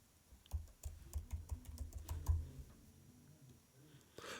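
Quick bursts of keyboard typing, with clustered clacks in an uneven rhythm that thin out toward the end; close and fairly quiet.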